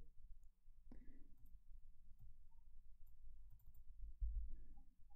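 A computer keyboard gives soft, scattered clicks and taps under faint background noise, with a couple of slightly louder keystrokes.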